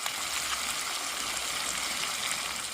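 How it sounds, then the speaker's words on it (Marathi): Water pours into a pot of cooking chicken by a riverside, a steady close rushing gush that lasts the whole moment without voices. "पाणी ओतून घेते आता"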